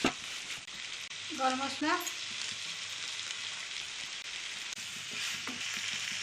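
Potatoes sizzle in a pan for dry aloo dum, a steady close frying hiss under a brief spoken remark and some stirring.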